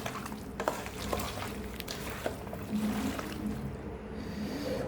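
Spiced native duck meat is mixed and kneaded by hand, producing wet squishing and slapping sounds with occasional sharper clicks, close and moderately loud, with no voices.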